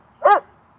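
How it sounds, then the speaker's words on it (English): A dog gives a single short, sharp bark, close and loud, then quiet. "Hey, no barking."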